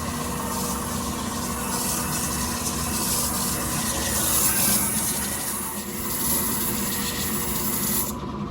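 A hand-blown glass cup is ground on a wet 100-grit wheel, making a steady watery rasp with running water and a constant hum, unbroken across the clip.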